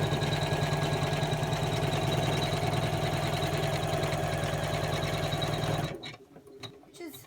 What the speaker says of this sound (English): Then we're going to go and put it on the machine and stitch number 1.